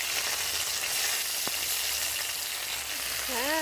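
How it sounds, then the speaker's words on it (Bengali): Washed moong dal frying in hot white oil in a wok, a dense, even sizzle that stays loud and close throughout, with one brief knock partway through. "ডালটা এবার খুন্তির সাহায্যে নাড়াচাড়া করে 3 থেকে 4 মিনিট ধরে ভালো করে ভেজে নিচ্ছে।"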